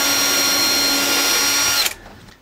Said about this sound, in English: This is about a 1mm drill bit, and we're drilling right through the card and the leather.